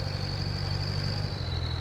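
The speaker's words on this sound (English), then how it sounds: "This is only an 80 horsepower tractor" An 80 horsepower tractor engine idles in Farming Simulator 22, a low, even rumble with a faint high whine above it, steady and close throughout with no talk.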